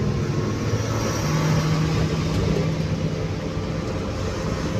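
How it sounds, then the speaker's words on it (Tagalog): A steady low rumble of heavy trucks and trailers crawling slowly along a night highway in Quezon, droning continuously at close range with no talk. "Gapang yung mga truck ngayon."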